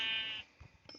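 A sheep in the Minecraft video game lets out a single wavering, nasal bleat up front, followed by a few faint, soft game sounds as it fades.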